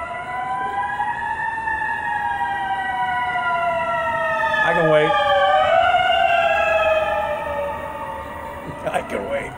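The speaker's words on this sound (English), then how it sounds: "We're gonna get to listen to a siren too" A wailing siren sweeps up and down continuously, fairly close and loud, with a brief horn-like blare in the middle.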